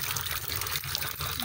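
Water runs from a tap during toilet cleaning, a soft, continuous splashing flow at low volume with no pause.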